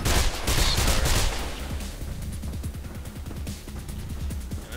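Gunfire in the video game Mirror's Edge: a loud burst of rapid shots at first, then a steady run of quicker, sharper automatic rounds continuing to the end.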